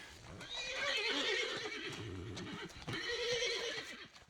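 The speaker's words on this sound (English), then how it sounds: "it wound up being largely a stud horse that was having the semen taken from it" A stud horse neighs loudly and repeatedly, its whinny rising and falling, with a brief pause before another long neigh close by.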